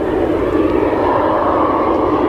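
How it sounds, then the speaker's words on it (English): A Jet2 holiday jet airliner at Leeds Bradford Airport gives a steady, loud engine roar that holds level throughout with no talk over it. "Jet2 holiday planes."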